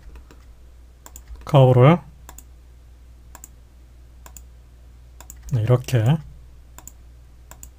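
Mouse clicks tick sharply and sparsely through a Blender modeling session, single taps spaced irregularly across the stretch, while someone speaks briefly in Korean twice between them.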